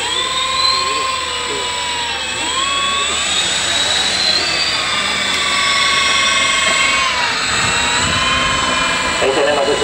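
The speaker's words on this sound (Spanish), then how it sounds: "ya está cogiendo vueltas la turbina." RC model jet turbine engine spooling up at a radio-control club anniversary event, a loud steady whine with rising and wavering high-pitched tones filling the whole stretch, with faint talk in the background.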